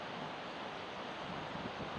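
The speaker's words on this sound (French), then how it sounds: "il y a quand même énormément de vent aujourd'hui" Strong wind buffets a small phone microphone outdoors at a feeder fishing competition, producing a continuous low rumbling roar that is fairly faint overall, with no speech.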